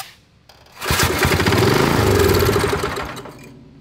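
A Briggs & Stratton engine on a 1972 parade kart cranks, catches and runs rough, a loud close buzzing, knocky chatter that holds for about two seconds before cutting out.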